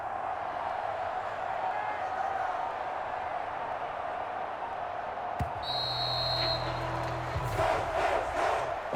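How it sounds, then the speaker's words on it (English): Home crowd in the Madden NFL 23 football video game, Bears vs. Chargers, a continuous broad roar of stadium applause and cheering with a few brief louder game effects partway through. "And the home crowd applauding."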